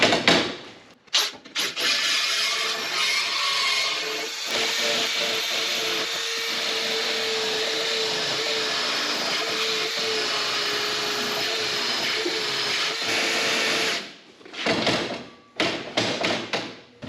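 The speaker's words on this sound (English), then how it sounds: "I'm just going to use the reamer again and the drill" A drill turning a reamer to enlarge a hole in a farm workshop gives a sustained, loud whirring grind for over ten seconds, with short bursts of knocking and handling noise at the start and end.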